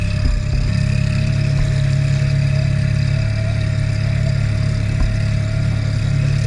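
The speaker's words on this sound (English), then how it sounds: "Give her a little throttle, and let's see how she steers." A Mercury 15 Pro kicker outboard motor runs steadily in gear at light throttle, a loud, close, continuous engine drone with a constant pitch and no speech.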